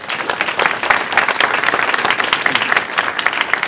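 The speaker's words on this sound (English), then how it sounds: "Okay, hold your applause, please." Audience applause at a Democratic gubernatorial forum for the Michigan governor's race: dense, steady clapping from a large crowd, loud and sustained with no voices on top.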